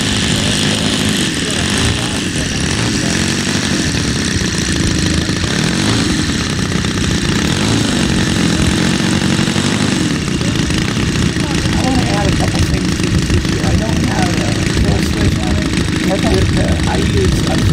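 A model aircraft engine runs at a steady, high-pitched buzzing drone for the whole stretch, loud and close, with people talking over it.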